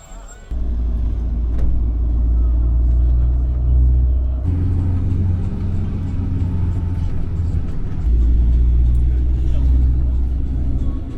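A local marshrutka minibus in Kutaisi, Georgia, drives along with a steady, deep engine rumble and road drone heard from inside. Voices murmur faintly under the noise.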